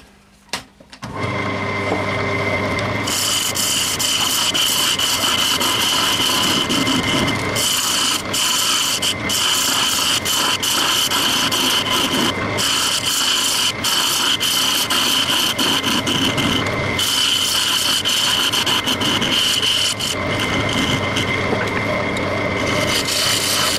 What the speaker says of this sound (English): I'm going to take this tenon off before I do anything else,